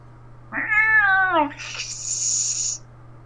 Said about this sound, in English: Beyond him, you hear some cats hiss.